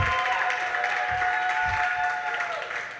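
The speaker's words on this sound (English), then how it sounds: "I want to hear a round of applause and a scream from you" Audience in a hall at a Young Historian Competition quarter final clapping in sustained, dense applause, with a bright steady tone or squeal running under it; screaming is not clearly distinct.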